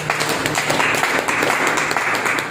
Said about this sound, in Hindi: आप अपने लिए एक बार जोरदार ताली बजा दीजिए